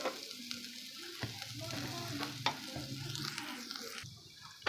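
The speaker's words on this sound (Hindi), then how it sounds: "अब प्याज को हल्का सा मैंने फ्राई कर लिया।" Finely chopped onion frying in hot ghee while a stuffed green chilli fry is being made, giving a steady close crackling sizzle with sharp spoon-on-pan stirring clicks over it and no talk.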